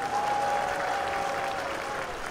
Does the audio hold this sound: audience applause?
yes